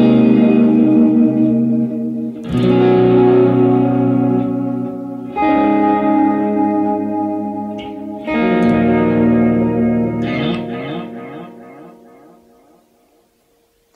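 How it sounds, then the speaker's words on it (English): Electric guitar played through a TC Electronic Flashback X4 delay pedal on its Tape setting, emulating 1960s–70s tape delay; loud chords and notes ring out in several phrases, each trailed by repeating, slightly tone-shifting echoes that fade away at the end. "it emulates that kind of tape delay we know from the 70s and from the 60s"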